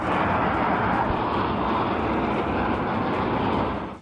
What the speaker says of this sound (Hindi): सबसे पहले 3 सुखोई फाइटर जेट तेजी से उड़ते हुए आए